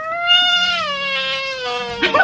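An upset white female cat lets out a long, drawn-out wailing cry, close and loud, sliding slowly in pitch before a brief rustle at the end.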